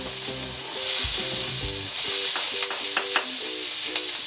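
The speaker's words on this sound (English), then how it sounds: "the first things that need to go in your pan is the chilli" Chilli sizzling in hot oil in a pan at the start of a matar paneer, a steady close crackle with a few sharper pops and no talking.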